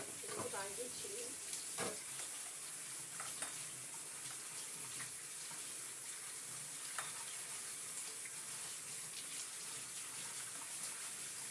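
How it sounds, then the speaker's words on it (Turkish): Onions are rinsed under a running kitchen tap, giving a faint continuous hiss and splash of water with a few brief clatters and handling knocks. "Soğanlarımı yıkayacağım şöyle hemen."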